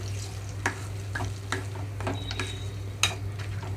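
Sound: stirring tamarind chutney into the tempering in a pan

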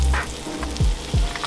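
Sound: octopus frying in a pan

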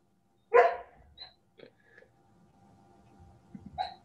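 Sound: dog making noises

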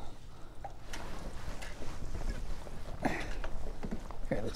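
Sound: wind blowing over kayak on water

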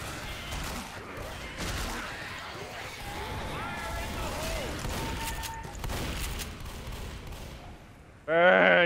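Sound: gunfire in the video game Left 4 Dead

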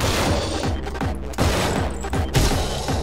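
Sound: gunfire in the video game Anger Foot

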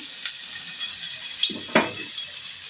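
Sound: chicken tikka frying in oil on low gas

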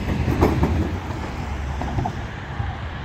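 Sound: tram moving on tracks in Arad

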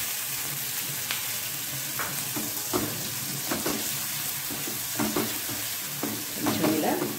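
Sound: frying ground mustard paste in a pan for tamarind rice

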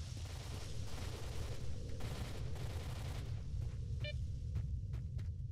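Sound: distant gunfire in S.T.A.L.K.E.R. video game

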